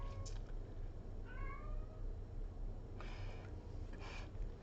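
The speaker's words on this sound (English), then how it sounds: "That's my cat meowing outside the door." A pet cat meows from behind a closed door, a few separate plaintive cries spaced apart and heard faintly over a low steady hum, with no voices.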